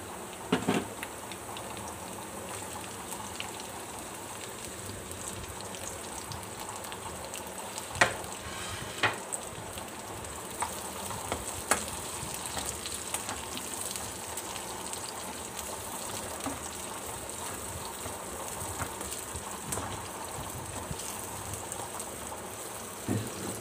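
Onions sauté in oil in a pan with a soft, continuous crackling sizzle scattered with small pops and occasional stirring clicks over a long stretch, with no talking.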